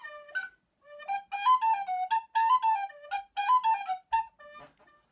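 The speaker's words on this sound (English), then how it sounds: "someone bought me this tin whistle." A melody on a tin whistle, bright pure notes in short phrases with brief gaps, played close and clear with nothing else behind it.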